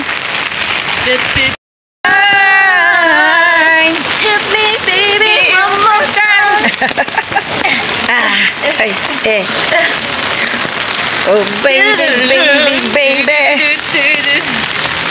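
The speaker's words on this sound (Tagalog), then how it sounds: "lakas ng ulan." Heavy rain pours steadily at an outdoor hot spring spa, a dense continuous hiss under people singing along to music and talking close by.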